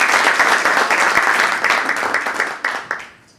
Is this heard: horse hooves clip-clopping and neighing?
no